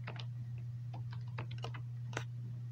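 Fingers tap out a short burst of keystrokes on a computer keyboard, close and crisp over a steady electrical hum, with uneven pauses between the clicks.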